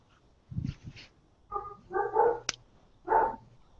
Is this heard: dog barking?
yes